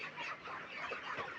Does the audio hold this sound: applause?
no